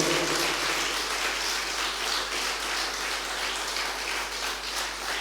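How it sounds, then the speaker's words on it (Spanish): Applause from a church congregation during a sermon on the coming of Christ, a steady, even wash of many hands clapping that fills the room for several seconds with no voices over it. "Damos ese aplauso al Cristo de la gloria"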